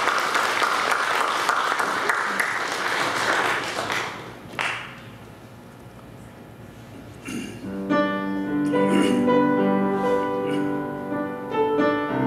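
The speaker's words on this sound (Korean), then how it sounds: "그러나 신뢰를 무릅쓰고 다시 한번 박수로 모시겠습니다." Audience applause at an evening church concert event in Korea, dense sustained clapping that fades briefly, then resumes as a piano or organ begins playing under it.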